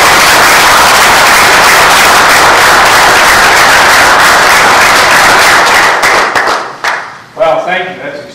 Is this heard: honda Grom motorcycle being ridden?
no